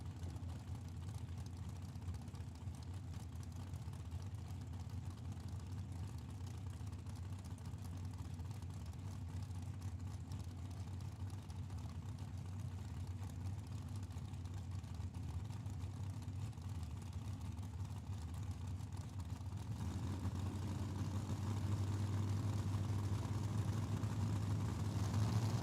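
A Chevy S10 and a dragster sit at the start line of the Tucson Dragway drag strip with their engines running. A steady, distant, low idle rumble fills the scene and grows louder and heavier near the end.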